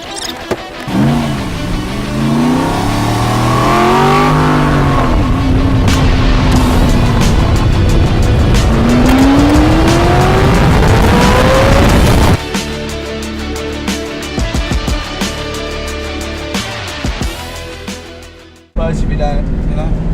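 An old car being driven, its engine revving and rising in pitch through the gears with a loud steady drone, then dropping to a rougher idle before a brief cut, while people talk over it.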